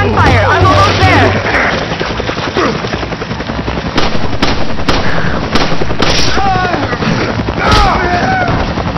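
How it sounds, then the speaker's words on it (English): Rapid machine-gun and rifle fire in Resident Evil 5 Mercenaries co-op mode in the mines, loud dense bursts throughout with scattered booms, while voices talk over the shooting. "I can hear gunfire."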